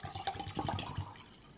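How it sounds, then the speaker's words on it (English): Water pours from a container into a beaker, a faint, close splashing trickle that lasts about a second and then fades out. "So I got water over here. We're gonna fill it up, the beaker,"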